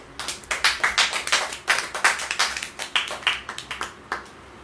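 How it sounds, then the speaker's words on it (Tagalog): Several people clapping at a church service, a sparse uneven patter of distinct hand claps in loose bursts, fairly close and moderately loud, with no voices. "Isang palakpak mo na sa gawain."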